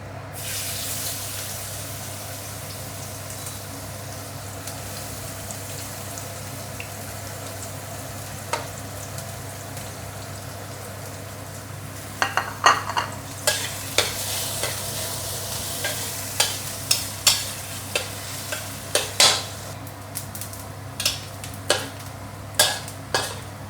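Ginger and garlic frying in oil for deep-fried fish, a low steady sizzle that turns busier halfway through as repeated stirring clicks and scrapes come in close, with no talking.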